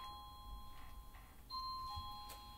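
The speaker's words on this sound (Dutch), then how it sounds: "we zeiden het en toen ging de bel" A faint electronic doorbell chime rings at home, two quiet sustained tones sounding in succession at a distance against a low background hum, with no talking.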